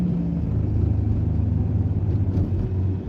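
A car accelerating gently in traffic, a steady low engine rumble that rises only slightly, close and continuous with no talk.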